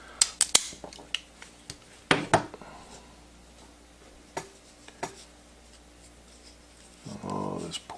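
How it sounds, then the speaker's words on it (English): A cigar cutter snipping through an H. Upmann cigar, heard as a few sharp close clicks and crunching snaps early on, sparse taps later and a short rustle at the end, with no talking. "Using my Cigar cutter, and we're going to cut a little"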